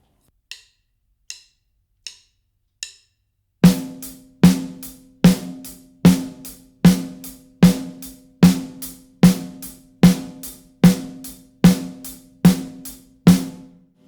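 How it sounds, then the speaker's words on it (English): A rock drum groove: after four quiet hi-hat count-in clicks, the snare is struck on all four beats with the left hand over steady eighth-note hi-hat, a loud, even, close pattern of sharp repeated hits. "we're now hitting the snare drum with our left hand on all 4 beats"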